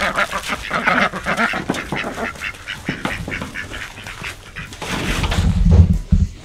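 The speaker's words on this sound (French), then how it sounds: "les canards ils se faufilent tous dedans pour avoir la bouffe" A flock of ducks quacks continuously and noisily up close, with scuffling and splashing growing louder toward the end.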